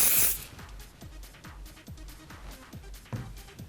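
Hairspray spritzed from an aerosol can onto a pinned, smoothed updo with extensions, starting with one strong close burst and followed by a run of short, rhythmic hissing puffs.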